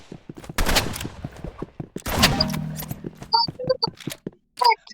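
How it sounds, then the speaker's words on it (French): Gunfire in a video game: a few sharp pistol-like cracks and quick bursts over a muffled engine-like hum, with small bright electronic chirps and game effects scattered in between. "Vite, tire dessus. Avec le pistolet."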